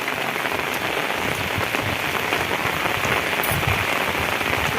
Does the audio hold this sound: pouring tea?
no